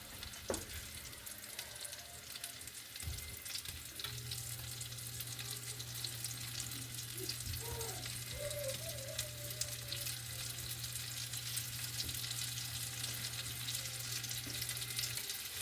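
Basil leaves and spinach frying in hot oil, a soft continuous hiss with a faint steady hum running underneath throughout.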